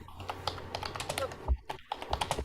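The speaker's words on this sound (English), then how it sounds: "I hear typing." Rapid keyboard typing clacks along in an irregular rhythm, close and clear, with a brief pause partway through and faint room noise underneath.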